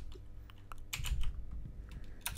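Quick bursts of typing on a computer keyboard, several clustered keystroke clicks in an uneven rhythm, close and fairly quiet over low background hum, with no speech.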